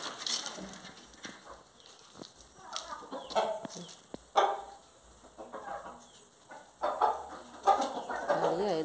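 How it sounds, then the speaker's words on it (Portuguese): Farm chickens cluck and squawk in scattered bursts after being let out of their coop on a rural homestead, fairly close, with faint human voices and rustling in the background. "a primeira coisa que a gente faz aqui quando chega aqui é soltar as galinhas"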